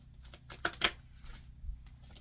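Tarot cards being shuffled, a short run of faint papery riffles and soft snaps with two sharper bursts near the middle, quiet and close.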